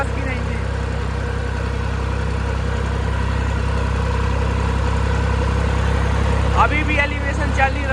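A Massey tractor engine labors up a slope in fourth gear, a steady loud drone with a constant low rumble throughout, close by, with a brief burst of other sound near the end.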